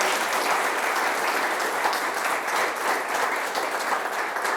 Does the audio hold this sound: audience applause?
yes